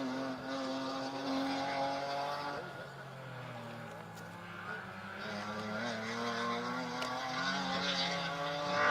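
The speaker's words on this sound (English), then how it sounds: "Stefan de Klerk with a BMW M3, slightly older version, but it's going very, very well." An older BMW M3 rally car runs a special stage at Rally Wervik, its engine note droning and shifting pitch steadily at a distance, with commentary running over it.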